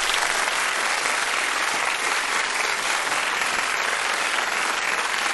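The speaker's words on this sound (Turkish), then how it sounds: "Karabük'e bir alkış o zaman." A dense, steady wash of audience applause fills the space, loud and sustained from start to finish, with many hands clapping together and no voices cutting through.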